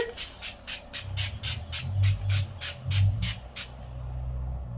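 Advanced Clinicals Collagen and Rosewater facial mist sprayed onto skin: a rapid, steady run of about a dozen short, close hissing puffs, evenly spaced, over a low background rumble, with no talking.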